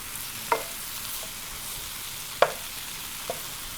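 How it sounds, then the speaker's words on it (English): Greens sizzle and fry quietly in an iron skillet, with three sharp scraping knocks as they are stirred, and no voices over the steady hiss. "And look how much they're already cooking down."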